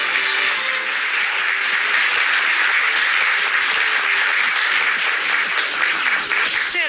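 Sustained, loud audience applause for a game show contestant, dense clapping throughout with no talking over it.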